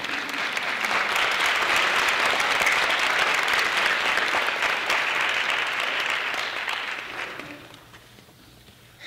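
An audience at a talk on mass incarceration claps steadily in a full, even round that holds for about seven seconds and then fades away.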